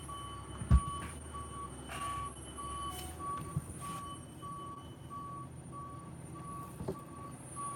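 A heating oil delivery truck reverses outside, its backup alarm beeping in a steady, evenly spaced rhythm from a distance over an idling engine rumble and room noise.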